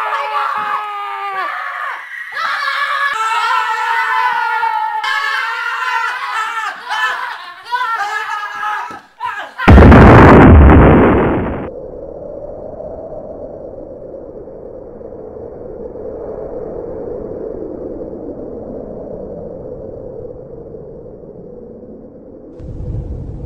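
Excited screaming and laughter cut off as a loud blast erupts, followed by a long, low rumbling roar that slowly fades.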